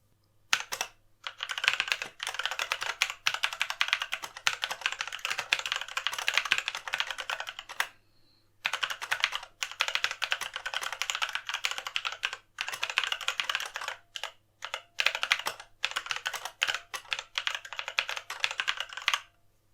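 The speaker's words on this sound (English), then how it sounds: "here is a noise sample of how they sound like in a quiet room" Steady rapid typing on an SPC Gear GK550 Omnis mechanical keyboard with Kailh Red switches, dense clacking keystrokes in a quiet room, with a brief pause partway through before the typing resumes.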